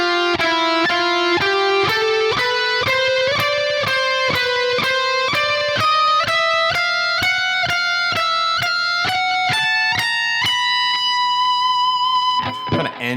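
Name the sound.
electric guitar playing a shred lick slowly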